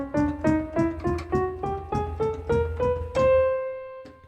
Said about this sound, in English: if you play through those notes, is the chromatic scale, which sounds like this